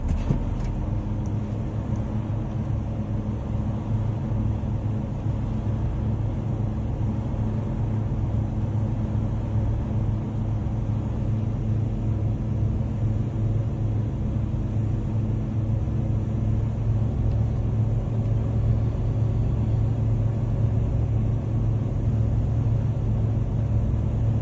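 A Class A truck engine idles and runs at raised revs, a loud, steady low rumble with a constant droning hum that holds evenly from start to finish without voices.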